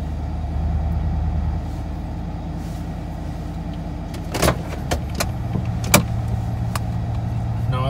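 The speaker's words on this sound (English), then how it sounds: "So this is a cold start." A 2015 Chevrolet Silverado with a Magnaflow axle-dump exhaust idling on a cold start, a steady low engine rumble heard close up, with a few sharp clicks and thumps partway through.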